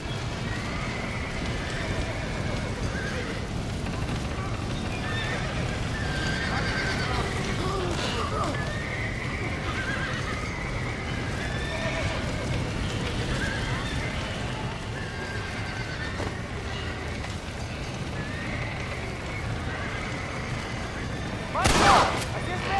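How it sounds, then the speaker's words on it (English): A horse whinnies amid a busy Red Dead Redemption 2 game soundscape with steady background noise, ending in a sharp burst near the end; hoofbeats are hard to pick out. "horse."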